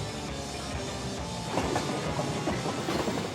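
A freight train at a station, heard from a distance as a low steady rumble, with rhythmic wheel clatter and clanks picking up in the second half.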